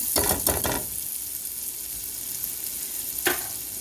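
Beef stroganoff sizzles steadily in a pan, a continuous close frying hiss with a few brief louder bursts near the start and one more near the end, no voices.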